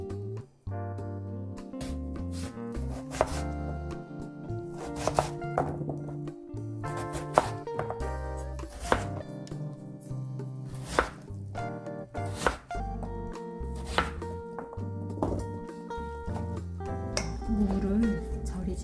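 Knife chopping radish into cubes for kkakdugi on a cutting board, repeated thunks heard under steady background music, with occasional sharper hits standing out.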